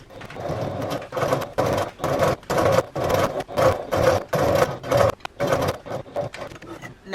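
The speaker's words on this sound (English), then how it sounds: "we're going to sew all the way down towards the opposite end of the handle" A sewing machine top stitching along a bag handle runs in steady, rapid pulsing bursts with brief pauses, loud and close, its motor hum throbbing rhythmically throughout.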